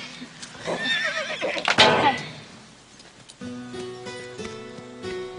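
A horse whinnies loudly with a rising, quavering call near the start, followed by a burst of nearby movement, then a tonal music-like hum takes over; voices are faintly present.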